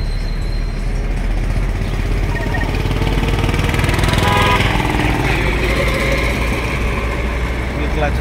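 A car engine drones steadily during a driving lesson as the learner releases the clutch and gives accelerator, swelling briefly mid-way, with an instructor's voice speaking over it.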